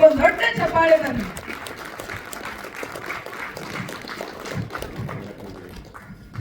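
An audience applauds as a guest is welcomed onto the stage. Scattered clapping swells briefly after a voice at the start and then fades to a lighter patter.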